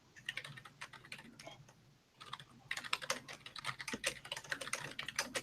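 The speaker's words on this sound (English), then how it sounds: "so while you're typing, mute your microphone." Computer keyboard typing nearby, brisk clattering keystrokes in quick bursts with a short pause near the middle, quiet and alone.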